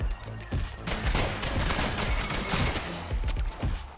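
Heavy, continuous video game gunfire in Mad Circles, a loud rapid fusillade of overlapping shots pounding without pause for the whole stretch.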